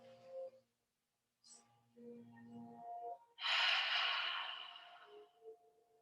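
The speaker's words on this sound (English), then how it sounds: "Last cleansing breath as you inhale" Deep breathing exercise with a long, loud breathy exhale following quieter inhales, close to the microphone over a faint background tone.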